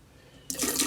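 Water poured from a container into an RV sink drain P-trap during winterizing, starting halfway through as a sudden close splashing rush that continues steadily to the end.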